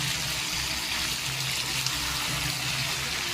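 Water pours steadily into a pot of mutton curry with fried potatoes, a continuous close rushing gush that runs unbroken under a low rumble, with no talking.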